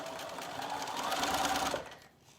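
A sewing machine runs steadily, stitching forwards and backwards along a skirt seam, with the motor whirring for almost two seconds before stopping abruptly.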